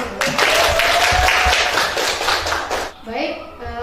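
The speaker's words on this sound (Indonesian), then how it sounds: "kita kasih tepuk tangan" A class of students claps together in a lively burst during a computer lesson, then the applause cuts off abruptly and a voice begins speaking.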